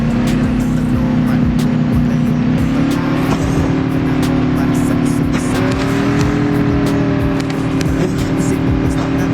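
A car drives in the Call of Duty Mobile video game, its engine droning loudly and steadily with slight pitch rises as it accelerates, close and continuous, with a few small clicks over the top.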